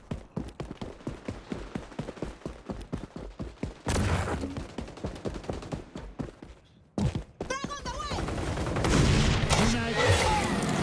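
Gunfire in the XDefiant shooter game: rapid bursts of automatic rifle shots in quick succession, then heavier blasts and mixed battle noise, loud and close, with a voice speaking briefly over the action.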